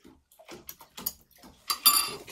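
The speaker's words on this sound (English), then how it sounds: "Let me clean it out with some water." A large glass test tube is rinsed with water, giving light sloshing, clinks of glass and splashy bursts, with the loudest rush of water toward the end.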